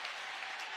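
A home crowd cheers and applauds steadily at a high school basketball game, a dense, continuous roar of clapping and voices at even loudness throughout.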